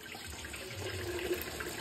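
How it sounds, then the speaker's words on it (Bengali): Starch water poured off freshly cooked rice, a soft continuous stream of running liquid at low level with no speech. "ভাত হয়ে গেছে, এবার আমি ফ্যানটা ঝরিয়ে নেব।"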